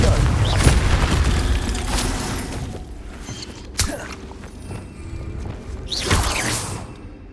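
Confringo fire-blast spell in Hogwarts Legacy on PS5, with booming explosive bursts near the start, around four seconds and again near six seconds, over a rumbling game ambience with whooshes.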